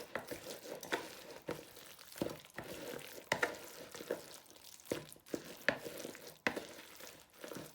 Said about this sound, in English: Now add some black pepper into your mixture to season. And also give it a good stir.